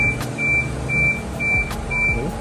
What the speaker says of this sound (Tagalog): ganito yung tunog ng OEM chime natin